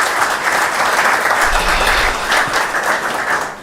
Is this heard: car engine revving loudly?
no